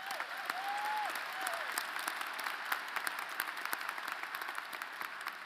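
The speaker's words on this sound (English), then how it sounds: "A round of applause for Laura and Ellen." Commencement audience applause in a large hall, a steady wash of many hands clapping that holds evenly for several seconds, with a faint whistle near the start.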